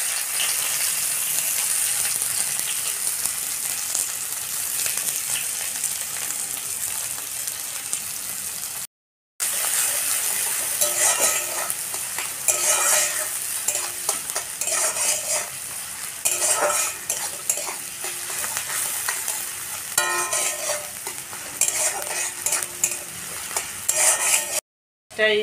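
Onions fry in mustard oil with four cardamom pods and two cinnamon sticks in a kadai, producing a loud, continuous sizzle punctuated by repeated scraping stirs, with one brief silent break and no talking.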